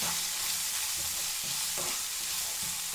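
Sabudana tapioca pearls and potato fry in a pan with a steady close sizzle, joined by a few soft stirring scrapes and no voices.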